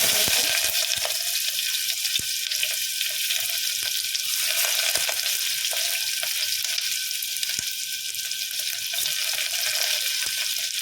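Onion fries with mustard seeds in hot oil inside a pressure cooker, giving a loud, continuous sizzle peppered with quick pops and crackles, no voices over it.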